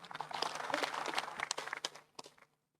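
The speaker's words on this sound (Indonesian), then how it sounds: "tepuk tangan" Applause breaks out from the audience at a ministerial address in Yogyakarta attended by regents and mayors: a dense, moderately distant wash of clapping that thins into a few scattered claps and then stops.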